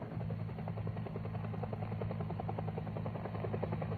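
A helicopter during a jungle team extraction pickup, its rotor thumping in a fast, even pulse over a steady engine drone, continuous and fairly faint throughout with no voices.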